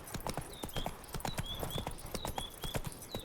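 Roach, the horse in the video game The Witcher 3, gallops with steady, rhythmic clip-clop hoofbeats. Faint high whistling tones sound over the hoofbeats.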